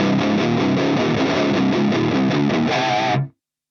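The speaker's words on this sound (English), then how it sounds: "So we're only getting our distortion sound." A heavily distorted electric guitar through a distortion pedal plays a gritty, buzzing riff, loud and close, then cuts off abruptly into silence.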